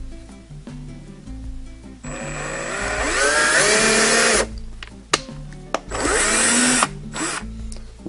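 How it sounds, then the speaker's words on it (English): A handheld power drill bores a hole in an RC airplane landing gear mounting plate, two long whining bursts with short stops and restarts between them, close and loud. "I'm going to go ahead and drill that"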